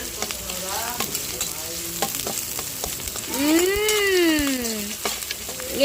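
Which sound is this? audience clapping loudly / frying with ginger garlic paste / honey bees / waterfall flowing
frying with ginger garlic paste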